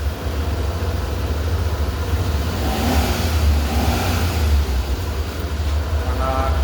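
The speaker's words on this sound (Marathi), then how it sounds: "तुम्ही आवाज ऐकू शकता इंजिनमध्ये. आणि थोडा रेट देऊन पण दाखवतो." A Maruti Alto car engine runs steadily at close range, a dense low drone that swells slightly as the throttle is raised and eased back.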